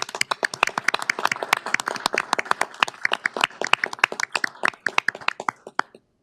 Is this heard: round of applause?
yes